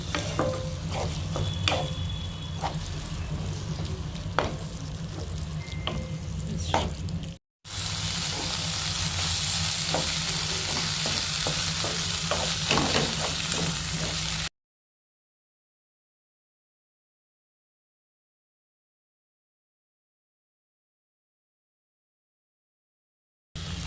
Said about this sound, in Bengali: ভালো করে এটা মা নেড়ে চেড়ে কষিয়ে নেবে